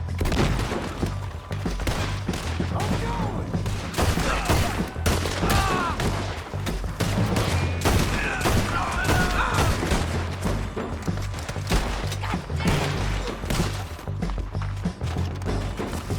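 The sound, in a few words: gunfire in the video game Red Dead Redemption 2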